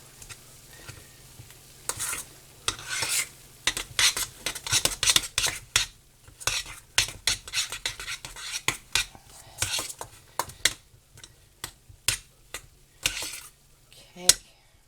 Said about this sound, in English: Make sure that cream cheese is all mixed in there.